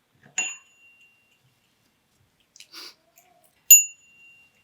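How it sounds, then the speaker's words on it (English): Two bright, clear strikes of a small witch's bell, each ringing out with a long sustained tone, separated by a brief soft rustle in a quiet room. "Why do we ring the bell?"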